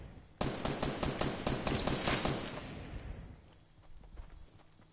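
Rapid bursts of Fortnite battle royale gunfire crack out close and loud in a dense volley for a couple of seconds, then thin out into scattered fainter shots and background game noise.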